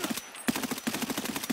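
Rapid gunfire in a multiplayer shooter, a fast steady burst of close, sharp shots keeping up a regular automatic rhythm, with no talk over it.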